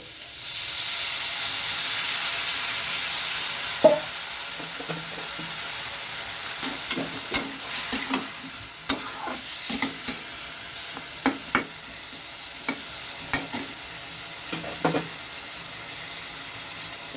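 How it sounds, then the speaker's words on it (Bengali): Fish cooks in a pan with a little water, first a steady soft hiss of steaming, then a series of quieter clicks and scrapes from stirring over a faint simmer. "মাছটা আমি মিনিট দুই এইভাবে রান্না করব"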